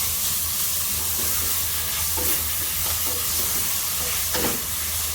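Chopped fenugreek leaves frying in a pan give off a steady, close sizzle and hiss, with occasional soft scraping from stirring.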